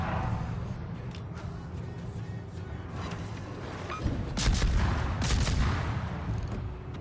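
Warship naval guns fire at an enemy ship in World of Warships, with heavy booming salvos and rumbling blasts layered over continuous engine and sea noise.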